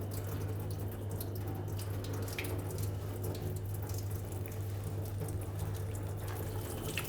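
A thin stream of water runs steadily over stretchy gluten dough, giving a continuous, even splashing trickle over a low background hum, with no voices.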